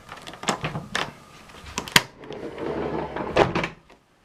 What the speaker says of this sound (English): this privacy door here that closes off the owner's suite.